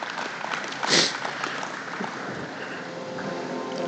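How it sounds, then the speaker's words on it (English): Applause from an outdoor state fair crowd at a beef cattle ceremony: a steady wash of distant clapping with one brief louder burst near the start, heard through wind-like noise. "Would everyone give a round of applause?"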